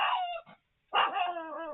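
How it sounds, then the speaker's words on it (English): A hound-like dog lets out two quick, close, howling bark-yowls separated by a short pause, the second drawn out into a wavering howl, with no talk. "That's how she barks. She howls."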